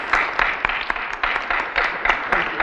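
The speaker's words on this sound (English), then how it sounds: "I just want to give a round of applause to Melina" Scattered applause at a school board meeting, a small group clapping unevenly in short, moderately loud bursts in a room, with no talking over it.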